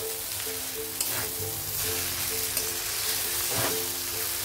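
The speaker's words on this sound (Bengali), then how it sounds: "আর দিয়ে দেবো কেটে রাখা ধনেপাতা, দিয়ে ভালো করে মিক্স করে নেব।" Noodles tossed with freshly chopped coriander sizzle and fry steadily in a hot pan, with a few soft scraping stirs breaking through the continuous crackle.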